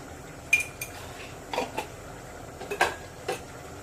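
A spoon stirring ripe-mango and prawn curry in a metal pot, giving a few scattered, sharp metallic clinks and scrapes against a quiet background.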